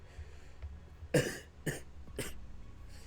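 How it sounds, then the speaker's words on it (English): Three harsh coughs in quick succession, close and fairly loud, followed by a softer fourth after a pause, with no talking. "Why am I coughing?"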